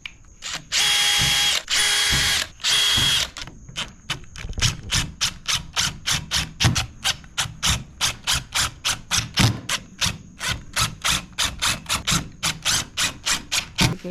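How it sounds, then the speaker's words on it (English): A power drill whirs in a few sustained bursts while pre-drilling for a vinyl fence gate hinge, then switches to a rapid, rhythmic series of short pulses, close and steady with no talking. "We're gonna pre-drill it."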